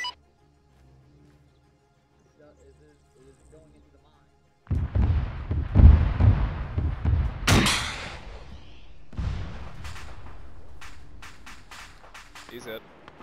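Artillery fire mission impacts in ARMA 3, a sudden loud burst of blasts and rumbling booms after a quiet stretch, with scattered sharp cracks and beeps trailing off as voices speak.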